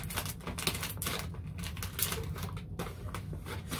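A package is cut open, a dense run of quick crisp snipping and rustling taps that carries on steadily across the whole stretch, close by and fairly loud.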